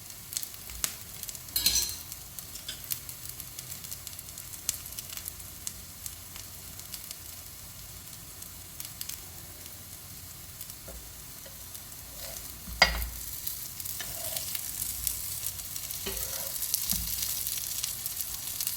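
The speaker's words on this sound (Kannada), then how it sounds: "ಸೊ ಹೆಂಚು ಮೇಲೆ ಈ ಥರ 2 ಕಡೆಯೂ ಮಾಡಿಬಿಡಿ ಅಷ್ಟೇ, ಎಣ್ಣೆ ಹಾಕಿ." Potato tikki shallow frying in oil on a griddle pan gives a steady soft sizzle throughout, with occasional scrapes and stirring clicks and a brief louder crackle near the start and midway, no voices.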